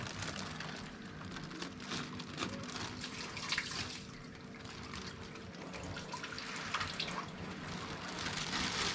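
Water poured out of a plastic fish bag into an aquarium tank, a steady trickling and splashing stream running close and continuous with no talk.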